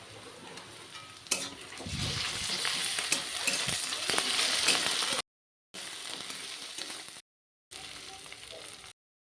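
Two large onions fried with two or three slit green chillies in a pan, crackling and sizzling loudly with stirring, broken by brief gaps of silence.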